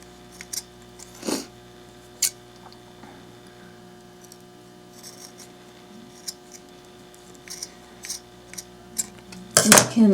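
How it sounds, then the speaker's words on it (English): Scissors snip a small piece out of paper or card while making a zombie craft: a few sharp, isolated cuts spaced apart in a quiet room, ending in a quicker cluster of snips. "I'm just going to cut a little piece out here to show you."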